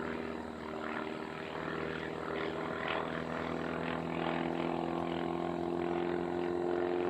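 An aerobatic airplane flies an inverted 180-degree competition turn at the 2025 US Nationals aerobatic contest, its propeller engine holding a steady, moderately loud drone that swells slightly throughout, with no talking.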